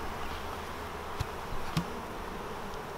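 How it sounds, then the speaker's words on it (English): Honey bees hum in a steady, dense drone at an open hive colony, the buzzing close and continuous with a couple of brief sharper passes. "Okay, lots of bees there, side to side"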